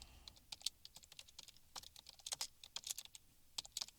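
Rapid typing on a computer keyboard, a dense, irregular patter of crisp clicks heard up close and fairly faint over four seconds, with no speech.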